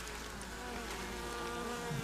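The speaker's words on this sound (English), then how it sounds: "cut out some of these Virginia killer bees," Bees hum in a steady, dense drone inside a church wall during a cutout, a continuous close buzz with no talking.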